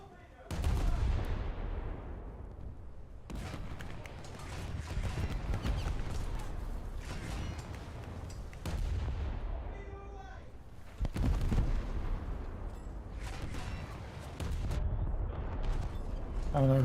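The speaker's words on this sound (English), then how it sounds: "I don't know who's shooting at me" An enemy battleship fires naval guns in War Thunder's Baltic Sea event, making loud booming blasts at irregular intervals, with some heavy bursts close together. They sound over rumbling engine noise and louder than the player's faint voice.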